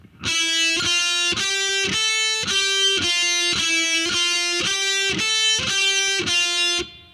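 A distorted heavy metal electric guitar phrase is played twice in a row: ten or so thick, saturated sustained notes with crisp pick attacks in a steady pattern, sounding loud and close.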